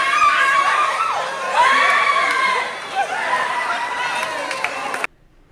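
A crowd of baccalaureate students in a school courtyard erupts in loud shouting, squealing and cheering as exam results are read out, a sustained excited roar of many voices that cuts off abruptly near the end.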